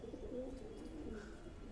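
A pigeon perched on a rooftop gives soft, low, rolling coos that sit close and clear over faint outdoor background noise.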